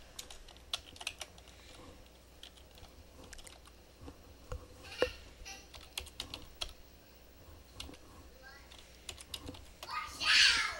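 Close typing on a computer keyboard while entering spreadsheet data, irregular bursts of clicking keystrokes with pauses between, ending in a short noisy scrape.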